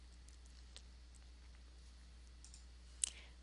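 A single mouse click selects an upload button on a computer, with one sharp, faint tick near the end over quiet room hiss and an earlier soft click.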